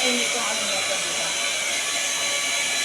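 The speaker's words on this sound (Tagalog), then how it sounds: "yun yung blower ng aso ng Raycon to" A pet grooming blower dryer runs on a dog, giving a steady loud airy hiss that continues without a break throughout.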